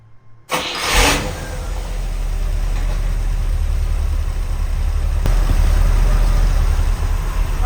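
Warm car engine fitted with a Quadrajet carburetor cranks briefly and catches, then settles into a loud, steady idle that runs on evenly close to the listener.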